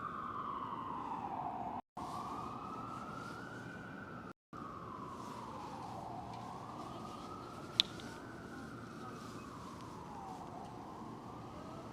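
An emergency vehicle siren wails on a busy Midtown Manhattan street, sweeping slowly up and down over steady traffic rumble. It sounds moderately distant and continuous, with two brief dropouts.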